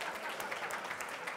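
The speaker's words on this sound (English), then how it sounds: "Give her a clap." Faint, brief clapping from an audience at a talk on computer vision, a soft patter of hands lasting about a second.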